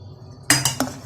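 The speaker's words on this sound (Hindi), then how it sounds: "एक और उबाल आने के बाद हम इसके अंदर ऐड कर देंगे इलायचियों वाली पत्ती 1 चम्मच और आधा चम्मच।" A metal spoon clinks against a pot of boiling chai three times in quick succession while cardamom tea leaves are added, sharp and close after a quiet, low simmering hum.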